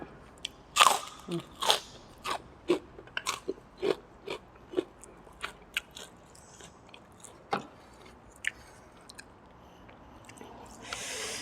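Crispy potato chips are bitten and chewed up close, about a dozen sharp crunches in an uneven rhythm with a few softer chews between and quiet gaps, alongside a meal of pork noodle soup.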